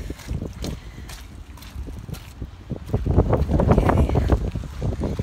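Wind buffets a microphone outdoors near a busy parking lot, a steady low rumble that swells louder in the second half, with a brief spoken word near the start.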